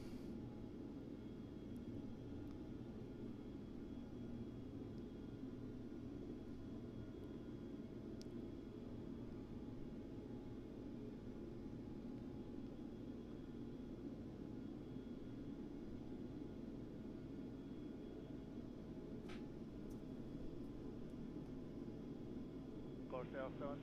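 Antonov An-124 engine drone in a flight simulator during a Libyan Air Cargo flight, a faint steady low rumble that runs unchanged throughout.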